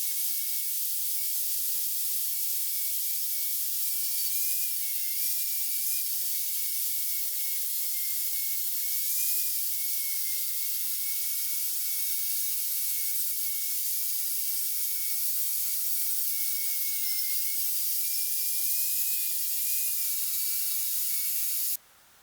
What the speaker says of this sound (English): get a flapper wheel on one of my grinders and then just clean this up just really gently.